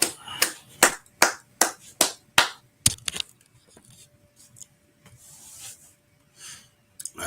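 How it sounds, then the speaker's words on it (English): A handful of people clap in a burst of about ten loud, sharp claps over three seconds, then it falls to near silence with faint rustling and a low hum. "All right, clap it up."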